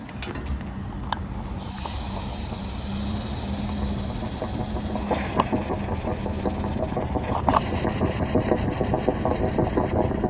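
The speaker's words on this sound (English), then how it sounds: "Now it's running rough too. That's a vacuum leak right there" A car engine idling rough because of a vacuum leak, a steady close mechanical rumble with uneven stumbles and a few sharp ticks, no one speaking.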